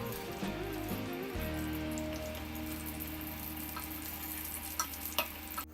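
Chopped ginger fries in a pan for shahi paneer, giving a steady crackling sizzle over a low kitchen hum, with a few louder spitting pops near the end.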